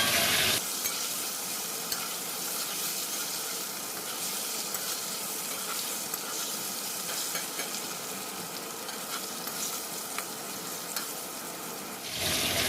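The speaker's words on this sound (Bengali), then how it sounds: "এখন এই আলুগুলোকে হালকাভাবে ভেজে নিতে হবে" Potatoes frying lightly in oil with turmeric, part of a tilapia fish dish with flat beans, give off a steady, close sizzle with occasional stirring that holds for about twelve seconds before stopping abruptly.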